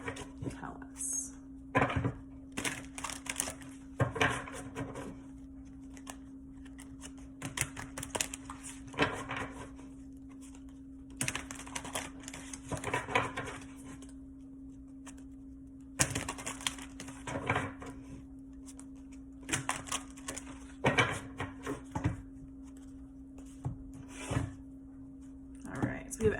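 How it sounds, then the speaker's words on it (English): Tarot cards being shuffled for a reading, oversized cards giving repeated crisp riffling and tapping bursts across the whole stretch under a steady low hum, with no voice heard. "I'm just gonna go ahead and start shuffling and see what the cards tell us."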